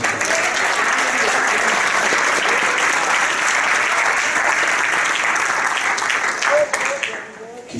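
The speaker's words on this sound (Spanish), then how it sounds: "Denle un fuerte aplauso, Señor." Strong, loud applause from a Spanish-speaking church congregation, a dense sustained wash of many hands clapping close by that tapers off near the end, with faint voices and cheers under it.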